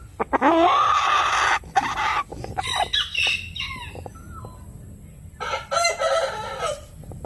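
A giant chicken crows loudly and close by in a long, strained call. After several seconds of quieter clucks and rustling, a second crowing burst follows.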